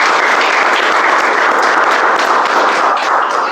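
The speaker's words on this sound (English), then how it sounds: "Let's give a good round of applause to our tag team and G." Loud, dense applause from a group at a book-discussion meeting, continuous and close, with no voices over it for several seconds.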